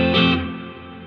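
Plate reverb from a Donner guitar reverb and delay pedal, set as a bigger plate with mid decay: a loud, distorted guitar strum blooms and then rings on, its wash trailing off slowly over about a second with no talking.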